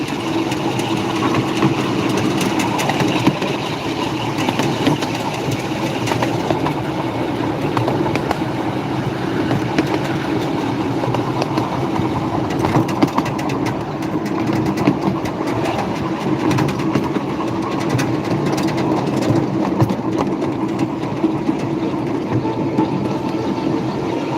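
A miniature railway locomotive idles at a station, with a steady, fairly loud engine rumble and faint clanks and rattles scattered through it, with no voices.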